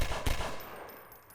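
Dual revolvers fire in the video game Half-Life 2, a quick burst of a few sharp, close gunshots at the start that quickly fade into a quiet tail.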